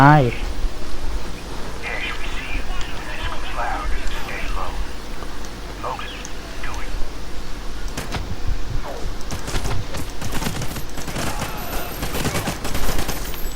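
Bursts of gunfire from the video game Call of Duty: Ghosts crackle in the background with rapid shots toward the end, under a steady ambient hiss and brief voices.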